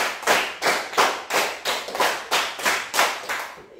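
Classroom rhythmic clapping game, with a group of pupils clapping together in a steady beat, about ten crisp, loud claps in quick even succession, close and with no voices.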